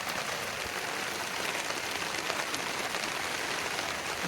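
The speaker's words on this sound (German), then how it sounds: "ob das jetzt noch lange weiter regnet, ich weiß es nicht" Steady, heavy rain pours down on a surface during an offroad camping trip, a dense continuous hiss that stays close and unbroken throughout, with no voices.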